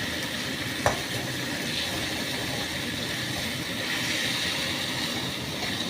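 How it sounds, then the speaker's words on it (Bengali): Mixed vegetables are stirred in a hot pan under a continuous, even sizzle, with one brief knock of the utensil early on. "সবজিটাকে ভালো করে মিশিয়ে দিচ্ছি"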